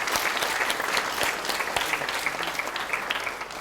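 Audience clapping at a seminar in a temple hall, a dense, steady burst of many hands applauding together, close and loud throughout, with no voices on top.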